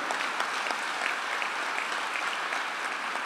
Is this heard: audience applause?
yes